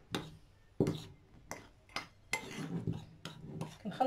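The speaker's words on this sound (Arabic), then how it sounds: "غادي نخلط هذا الدقيق هذا مع العطريه والنشا" A spoon stirs flour mixed with flavouring, starch and baking powder in a bowl, giving a series of soft irregular clinks and scrapes against the dish, quiet and close, with no voice.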